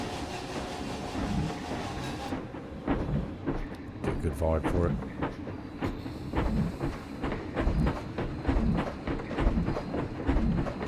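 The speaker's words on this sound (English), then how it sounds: "Go for a little train ride." A train ride in the video game Planet Coaster: steady rumble and rhythmic clickety-clack of rail wheels runs throughout under someone talking.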